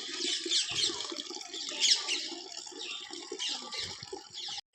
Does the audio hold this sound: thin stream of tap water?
yes